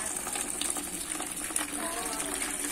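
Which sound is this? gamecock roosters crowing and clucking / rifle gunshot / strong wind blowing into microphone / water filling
water filling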